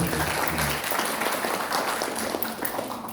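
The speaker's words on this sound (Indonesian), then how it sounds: "Jadi tepuk tangan untuk Pak Vanis bisa" An audience at a library talk event breaks into applause, a dense, steady wash of clapping from many hands lasting the whole stretch, with a voice faintly underneath.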